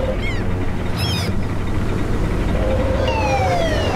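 A fire truck's siren wails and sweeps in the video game Matchbox Emergency Patrol, loud and continuous over a steady engine roar, with no talk.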